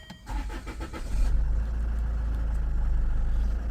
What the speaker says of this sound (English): Fire it up for you.